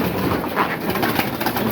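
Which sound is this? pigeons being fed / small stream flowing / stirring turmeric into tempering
pigeons being fed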